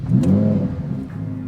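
A Lamborghini Huracan EVO's V10 engine fires up close by with a loud, deep roar that flares briefly and then settles into a steady, rumbling idle.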